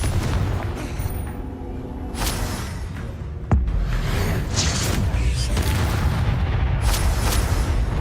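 A Confringo fire spell explodes in the Hogwarts Legacy video game with a sharp, loud crack, followed by a dense, rumbling roar of blasts and crackling that carries on steadily with no let-up.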